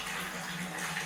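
Water pulses through a pipe, a brief continuous rushing wash with steady flow and slight surging, moderately quiet and close.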